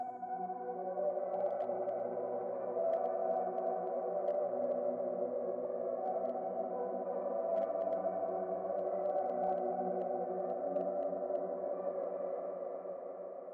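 A Labs software piano runs through a drill-preset effect plugin at 45% wet, a sustained, washed-out chordal tone with soft shimmering tails and a faint low undertone, steady and alone.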